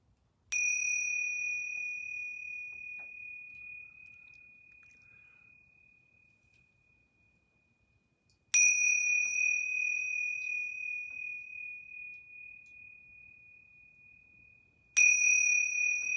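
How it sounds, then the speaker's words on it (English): Yoga bells struck three times during a yoga class, each a clear, bright ring that slowly fades, spaced several seconds apart in an otherwise quiet room. "I'm going to ring these yoga bells 3 times."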